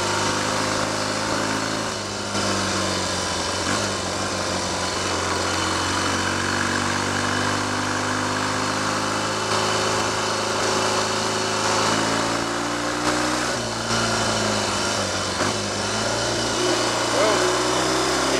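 A Triumph/Royal Enfield Trifield 500 trials motorcycle engine running steadily nearby, a continuous thumping drone with occasional revs rising and falling across the span.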